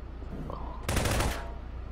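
A short burst of rapid gunfire shooting props in Prop Hunt rattles out for about half a second, loud against a quieter background with faint talk.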